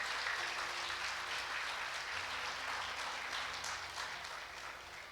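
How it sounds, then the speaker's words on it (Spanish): A church congregation applauding during a Spanish-language service, a faint, distant wash of many hands clapping steadily and slowly tapering off over several seconds. "Vamos a aplaudir al Señor"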